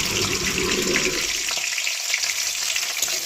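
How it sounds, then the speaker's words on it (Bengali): Chopped capsicum sizzles and crackles in hot oil in a kadai during shahi paneer cooking, a loud continuous fry that eases slightly midway as the pieces settle. "এর মধ্যে আমি দিয়ে দেবো কুচনো ক্যাপসিকাম।"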